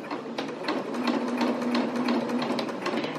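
A sewing machine runs steadily while topstitching a hem with a twin needle at a stitch length of about 3.0 to 3.2, giving a close, continuous mechanical hum with a rapid, regular stitching clatter and no talking.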